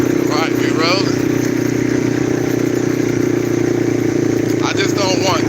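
Four-wheeler with a carburetor idling nearby, a steady loud engine drone that runs unbroken throughout while people talk briefly over it.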